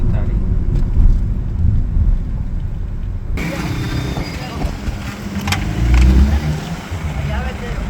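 A car marked Police is driven the wrong way along a highway near Radhanpur, giving a steady, loud, close rumble of engine and road noise throughout, with a voice talking over it.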